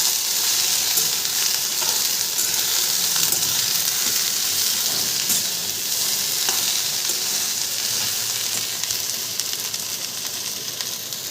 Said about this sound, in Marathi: कांदा जिरं टाकलं मधी आणि भेंडी आता मस्तपैकी आपल्याला करायची